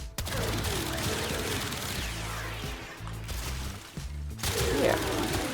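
Weapon secondary fire in the Warframe video game, a continuous loud rapid burst of shots with a brief break and a renewed blast near the end.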